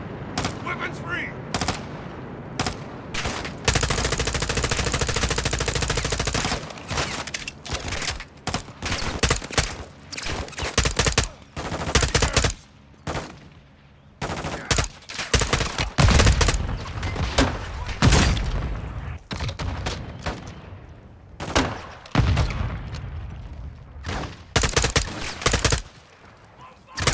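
Heavy gunfire in the Call of Duty Modern Warfare 2 campaign, with long sustained automatic bursts and rapid single shots plus booms filling most of the stretch, broken by short gaps, and voices shouting intermittently through the combat.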